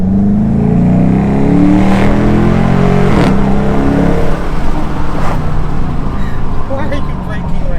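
A 2021 Dodge 300 fitted with a cold air intake and throttle body spacer accelerates hard in sport mode, its loud engine roar rising in pitch from inside the cabin while people talk.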